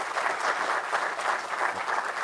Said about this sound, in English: can we have another round of applause for all the organizers and all the great work they've done?